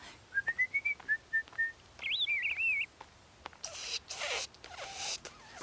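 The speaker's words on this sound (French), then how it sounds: "Pourquoi tu siffles? Parce que c'est la façon de parler aux oiseaux." A child whistles to birds with rising and falling pitched phrases, a short run of notes then a longer warbling call, close and fairly quiet, followed by brief rustling noise.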